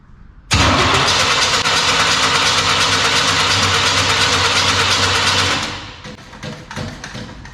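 An engine with no alternator fitted cranks and catches roughly, then runs loud and steady for about five seconds before the note drops away, leaving lighter tapping and rattling sounds.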